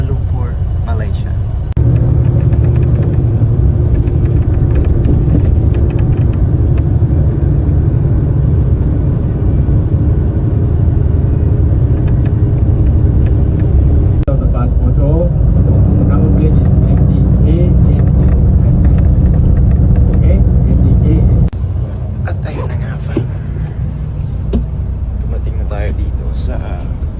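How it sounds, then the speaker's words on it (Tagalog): Interior of a city tour bus in Kuala Lumpur, Malaysia: a steady low engine drone and road rumble fill the cabin, rising in level midway then dropping near the end, with faint voices underneath. "nandito na tayo sa loob ng bus"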